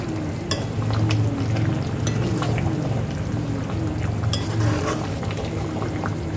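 Shengole, a Vidarbha-style steamed dough dish, is stirred and sautéed in a pan over high heat, giving a continuous bubbling sizzle with soft scraping and occasional utensil clinks, close and steady, no voices.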